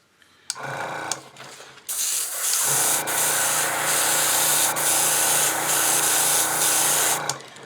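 Airbrush spraying thick paint onto a vinyl top with the air pressure turned way up, a steady loud hiss after short bursts, running continuously for several seconds before cutting off.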